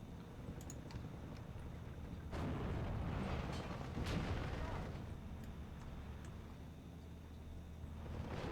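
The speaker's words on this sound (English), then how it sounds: "I brought another M5 gun. It's gonna start shooting HE shells" M5 gun firing high-explosive shells in the Steel Division II wargame, heard as dense rumbling booms and crackling battle noise that swell around the middle, with a steady low roar throughout.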